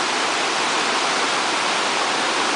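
Waterfall roaring steadily and close, a dense unbroken wash of falling water from in the middle of the cascade, with no voices over it.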